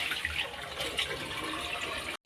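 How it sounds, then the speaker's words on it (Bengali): Dirty water rushes steadily from an iron filter being flushed clean, a continuous close splashing flow that cuts off abruptly at the end. "এখনো নোংরা জল বার হচ্ছে।"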